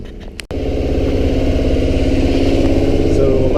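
A sailboat's engine runs steadily after a brief pause, a loud, close, continuous mid-pitched drone with a fine rhythmic clatter.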